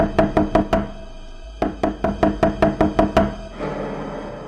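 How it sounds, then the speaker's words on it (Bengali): Repeated knocking on a wooden door in a ghost-story audio drama: a burst of five sharp knocks, a pause, then a longer run of about ten steady knocks, close and loud, ending in a low rumble. "ধাক্কার পর ধাক্কা।"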